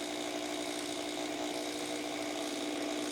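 A drill whirs steadily while mixing white plastisol ink in a bucket, a constant faint mechanical hum with a churning texture and no pauses or talking.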